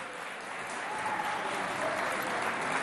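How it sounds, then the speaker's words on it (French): Steady audience applause from a school quiz contest crowd, dense continuous clapping swelling slightly midway and holding for the whole stretch, with faint voices mixed in. "Applaudissez bien fort pour vous, s'il vous plaît."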